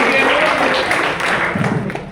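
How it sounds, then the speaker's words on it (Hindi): Audience applause at a bank staff college cultural event in Lucknow, a loud, close burst of clapping from a crowd in a hall that begins to fade toward the end. "तो एक बार जोरदार तालियां हमारे कुलभूषण भाई"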